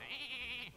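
A sheep from the Hearthstone game gives one short, nasal, wavering bleat, clear and close, with no voices around it.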